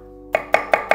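A knife chopping red onion on a board, four crisp, evenly spaced cuts in quick succession, close and clear.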